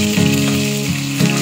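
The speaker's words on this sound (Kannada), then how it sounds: "ಇದು ಫ್ರೈ ಆದ ತಕ್ಷಣ ಈರುಳ್ಳಿ ಮತ್ತು ಮೆಣಸಿನ್ಕಾಯಿ ತೊಗೊಂಡಿದ್ದೀನಿ." Onions and green chillies fry with cloves in a pan for paneer biryani, making a loud, close, steady sizzle that swells briefly each time the mix is stirred.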